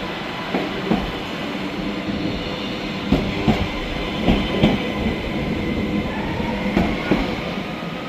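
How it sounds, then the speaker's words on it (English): Class 397 passenger unit 397002 on a Liverpool Lime Street to Glasgow Central service passes through Carlisle, giving a steady rolling rumble with regular wheel clicks over rail joints and a faint high squeal. "Our second train of the day is 397002 with 1 Sierra 41, 1S41 from Liverpool Lime Street to Glasgow Central."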